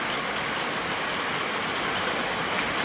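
Rain falls steadily during the rainy season at a rural home in Thailand, an even, continuous hiss of drops with no break or voices.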